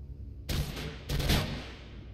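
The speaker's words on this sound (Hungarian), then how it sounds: "Mert nagyon gyorsan tudnak lőni már, mint egy két lövés között" Enemy gunfire in the game Mirror's Edge comes in two loud, rapid bursts about half a second apart, each a dense crackle of shots after a quiet start.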